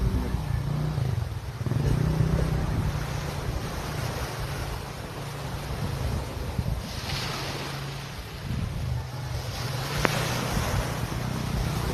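Ocean waves wash continuously at a seashore with clean, breezy air, a broad rushing surf roar mixed with gusty wind buffeting the microphone, steady and moderately loud with no talking.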